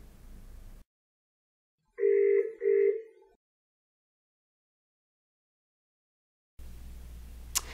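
Polycom RealPresence Group series video conferencing system giving a short pair of electronic ringback tones after dialing, two clean beeps in a quiet gap between room noise.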